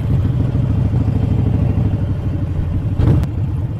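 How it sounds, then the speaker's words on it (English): A 2013 Harley-Davidson 1200 Sportster with its exhaust thumping in a steady low rumble and a constant rattle, loud and close with no talk, with a brief burst of extra engine noise near the end. "this exhaust and the rattling, this thing rattles the living daylights out of you"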